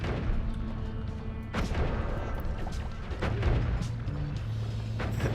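Chain bolt spells explode in Noita as a rapid series of loud, close booming blasts and crackling bursts, with several sharp hits standing out over a continuous dense roar.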